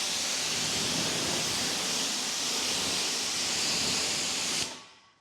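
An AR630 V2 pressure washer blasts water at a car in a strong, steady broadband hiss for about four and a half seconds, then cuts off abruptly and trails away to quiet.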